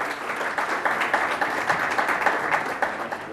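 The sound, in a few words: audience applause at conference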